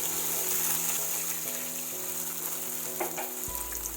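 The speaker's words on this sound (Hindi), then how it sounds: "अब डालेंगे इस टाइम पे दूध।" Milk poured into hot caramelized sugar for caramel popcorn, a strong hissing sizzle with bubbling and a low hum, close and steady throughout, no speech.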